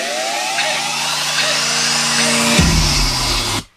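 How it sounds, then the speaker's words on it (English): Sweep and riser effects in an electronic remix track, a bright rising noise wash over sustained synth tones, building loudly before a low drop and abrupt cutoff. "like simple effects. Sweep, riser."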